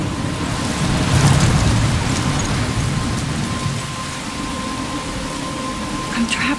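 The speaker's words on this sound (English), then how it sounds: "I'm trapped in a storm." Heavy storm rain in the video game Life Is Strange pours steadily in a dense, constant hiss with a low rumbling undertone, swelling louder early on before settling, with faint background voice activity.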